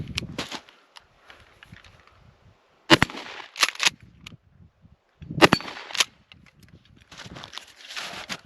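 Shotgun firing Brenneke slug shells outdoors, several sharp loud blasts spaced a few seconds apart, each followed by brief shuffling and handling noise, no talk.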